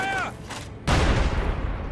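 Gunfire and artillery fire in a war video game: a brief muffled shot fades out, then after a short gap a loud, heavy blast erupts and rolls on as a dense, rumbling barrage.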